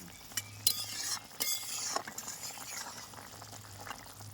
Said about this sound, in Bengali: দেখুন কি সুন্দর আমার ঝোলটা ফুটছে